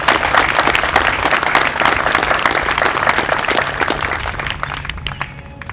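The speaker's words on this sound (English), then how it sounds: "Can we give them a warm round of applause" A crowd at a military change-of-command ceremony gives warm, sustained applause, dense and steady before gradually thinning out toward the end.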